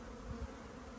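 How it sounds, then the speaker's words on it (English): Honeybees buzz around the front of a hive after a flight, a soft continuous hum with a couple of brief louder passes close by, fairly faint overall. "see everything flying universally, clusters of bees on the front"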